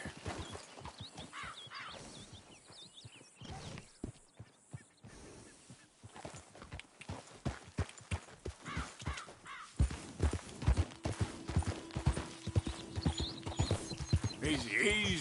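A horse's hooves gallop in Red Dead Redemption 2, a fast run of sharp, close hoofbeats that grows louder and denser over time, with a steady tone joining later and occasional bird calls.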